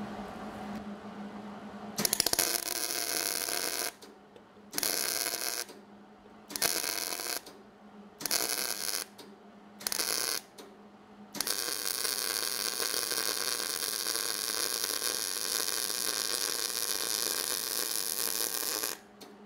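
MIG welding on sheet metal to fill a hole, an intermittent crackling buzz in short bursts separated by brief pauses, then one long sustained run of steady crackle.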